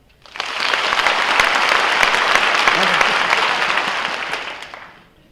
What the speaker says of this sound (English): Clap if you've read the book.